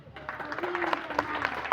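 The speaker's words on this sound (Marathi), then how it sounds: "टाळ्या वाजवा जोरात, जोरात टाळ्या वाजवा" Schoolchildren clap after a student's Independence Day speech at a primary school celebration, a fairly steady patter of many hands with scattered sharper claps, heard under a teacher's voice.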